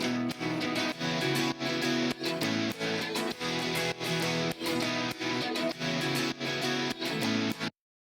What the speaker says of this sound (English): So with his guitars, it sounds like this.